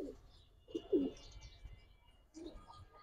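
Giribaz pigeons coo close by in a few soft, low bursts separated by quiet pauses, with faint background chirps.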